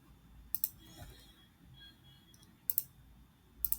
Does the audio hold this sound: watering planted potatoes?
no